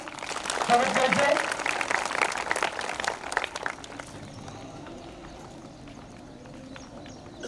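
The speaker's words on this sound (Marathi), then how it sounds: "सर्वांनी टाळ्या वाजवून स्वागत करायचंय" An audience claps at a village Independence Day ceremony to welcome people being honoured. Dense, busy clapping lasts about four seconds, then thins out and fades into quieter background noise.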